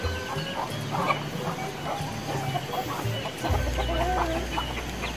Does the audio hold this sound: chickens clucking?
yes